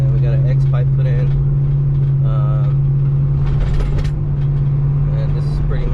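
A BMW X5 4.4i with its resonator and mufflers deleted and an X pipe installed idles with a steady, deep drone heard from inside the cabin, along with faint muffled voices.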